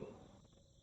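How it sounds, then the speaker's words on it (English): Light insect chirping from crickets in the point-and-click game Darkside Detective 2, a faint steady trill that fades slightly over under a second, with no talking. "It's a chirping sound from over here."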